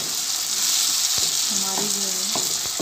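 Tomato onion karahi sizzles loudly in the pan, a dense continuous frying hiss with a few sharp clinks of a stirring spoon against the metal.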